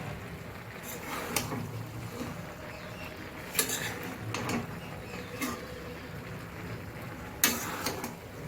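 Cabbage cooking with fish heads is stirred in a pan after the lid comes off: occasional utensil scrapes and clinks against the pan over a low, steady background hiss, with no talking.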